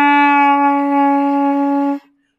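Clarinet played with too little lip pressure, a single dull, flat-sounding sustained note held for about two seconds and then stopping abruptly, alone and close.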